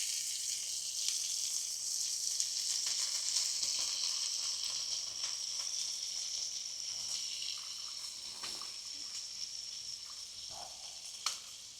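Sheepshead fish sizzling in a pan as lemon juice is added, a steady bright hiss that gradually softens, with a few small pops and clinks near the end.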